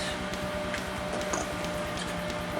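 A sewing machine stitches nylon webbing onto a 50L roll-top backpack, a steady fast mechanical whir with rhythmic needle pulses running continuously, close and fairly loud, with no talking.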